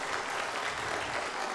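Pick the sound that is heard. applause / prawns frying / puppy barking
applause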